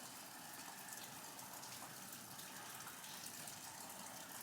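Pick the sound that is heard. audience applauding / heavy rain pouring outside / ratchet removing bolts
heavy rain pouring outside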